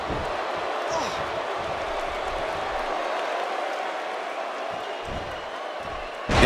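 A Tokyo crowd cheering at a WWE 2K18 women's wrestling match on Monday Night RAW, a steady, broad roar throughout with a sharp swell at the very end and voices talking over it.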